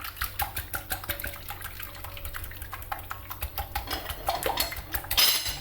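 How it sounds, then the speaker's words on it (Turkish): Eggs are whisked in a bowl for a water-pastry-style pan börek, giving rapid, continuous clinking and sloshing strokes close up, with no talking. "Bu yumurtalarımızı şimdi güzelce çırpıyoruz. İyice karışıyor."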